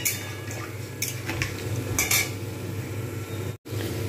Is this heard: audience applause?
no